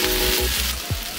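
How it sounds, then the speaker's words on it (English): Jasmine rice with chopped ginger being stirred in a hot pan, a steady close sizzle with a few soft scraping strokes of the spoon, no voices. "We're adding a little bit of chopped ginger. And we're going to stir it all together."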